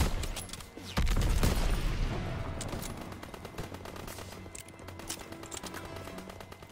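Rapid gunfire in the Call of Duty WW2 battlefield, with a loud burst of automatic shots followed by scattered cracks and sustained firing, close and dense, with no talk over it.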